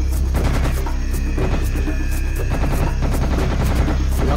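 Rapid, sustained automatic gunfire pounds away in the video game Serious Sam HD, dense repeated bursts over a heavy low rumble, loud and continuous throughout.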